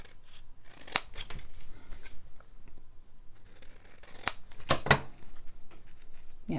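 Scissors snipping through paper close to a sealed edge while making junk journal ephemera, a few sharp close cuts spaced out over a quiet room with no talk.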